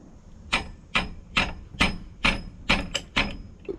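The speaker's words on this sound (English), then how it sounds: "We grabbed this wrench and a hammer and we just ended up tapping it here" Sharp metallic taps of a hammer striking a wrench on a bolt while installing a ProCharger pulley and hub, about nine evenly spaced strikes with a ringing clang, close and loud with no talk.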